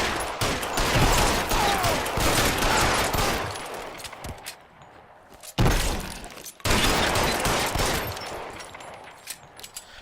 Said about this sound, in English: These guys are taking a lot of bullets to put down